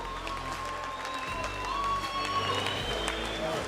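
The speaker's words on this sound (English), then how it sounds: "Ladies and gentlemen, let's give these two warriors a big round of applause." Crowd applause for two fighters at the end of a three-round combat bout: a steady wash of clapping and crowd noise, with voices mixed in throughout.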